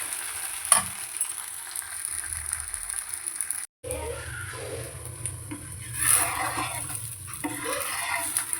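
Maravalli kilangu (tapioca) dosa batter sizzling steadily on a hot griddle, a soft continuous frying hiss with faint stirring and utensil scrapes nearby, no voices.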